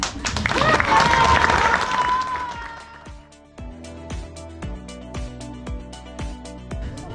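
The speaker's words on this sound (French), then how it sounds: "Merci d'applaudir Vincent alias Bubule." A crowd claps steadily at a reading hut inauguration in Tamines, then the applause thins into scattered, rhythmic claps alongside music.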